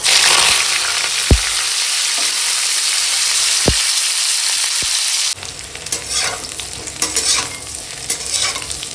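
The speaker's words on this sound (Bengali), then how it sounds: "ফুলকপিটা ভাপানো হয়ে গেছে তো জল ঝরানো হয়ে গেছে তো এখন ভেজে নেবো" Steamed, drained cauliflower frying in hot oil, a loud close sizzle with a few sharp pops, then a stirring section with rougher scraping and crackling as the pieces are turned.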